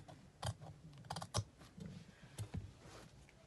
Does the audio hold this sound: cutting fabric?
yes